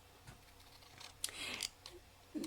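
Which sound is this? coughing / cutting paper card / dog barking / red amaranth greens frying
cutting paper card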